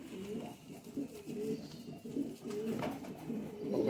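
A pair of Khatang pigeons coo softly in repeated low, throaty phrases, close by and fairly quiet, with faint background noise between calls.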